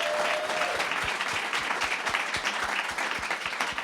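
An audience applauds a panel at Sundance 2023 with dense, sustained clapping that stays loud and even for a few seconds, a few individual claps standing out near the front.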